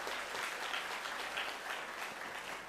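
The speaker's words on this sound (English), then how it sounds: "A big applause for that, please." Steady applause fills a large hall at a university convocation, a continuous even roar of many clapping hands with no voices over it, heard at a moderate distance.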